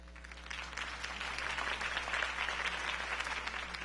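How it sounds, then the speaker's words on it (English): Crowd applause at a Harvey Dent campaign event in the Batman: The Telltale Series video game, a dense, steady wash of clapping that swells slightly and holds at a moderate level throughout. "If only Mr. Wayne, my campaign's largest backer, could have heard that applause"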